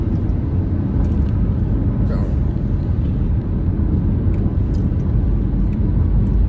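Road traffic passes as a continuous low rumble of vehicles, steady and fairly loud, with brief higher-pitched swishes over the drone.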